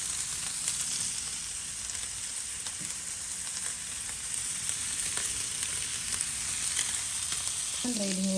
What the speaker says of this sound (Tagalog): pinasalang na rin natin ang sizzling plate